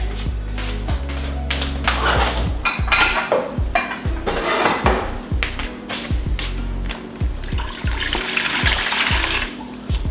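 Warm water splashes into a large container for no-knead bread dough, a steady close pour with clinks and knocks of kitchenware throughout.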